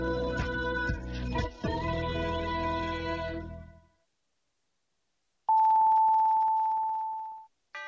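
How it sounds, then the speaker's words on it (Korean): A long, steady electronic time-signal beep marks the top of the hour on KBS Cool FM radio, sounding alone after music fades into a brief silence, with the next tone starting right at the end. "정성을 다하는 KBS 라디오가 잠시 후 11시를 알려드립니다"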